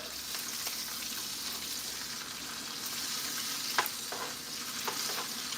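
A thick steak sizzles steadily in a hot pan, a dense, crackling hiss with occasional sharper pops and a few scraping touches, close and continuous with no voices.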